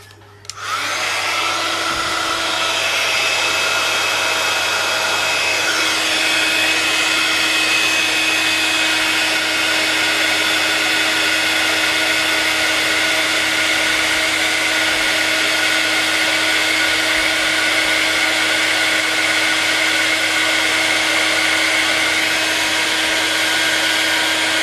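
A handheld heating tool for crafts, used on glitter work, blows a steady, loud whooshing whir with a constant hum, starting abruptly and running unbroken throughout with no talking.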